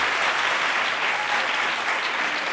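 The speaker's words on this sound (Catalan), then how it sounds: "un fort aplaudiment per ells." Dense, steady applause from an audience, many hands clapping continuously without a break.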